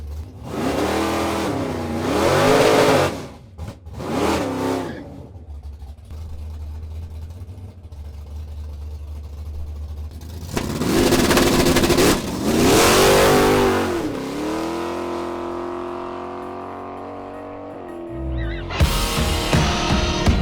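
A Ranger race car roars loud and close on a drag track, the engine revving hard and climbing through several gear shifts in surges, with a quieter idling stretch between runs.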